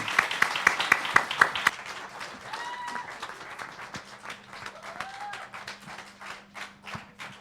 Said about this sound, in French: Je demande des encouragements, des applaudissements s'il vous plaît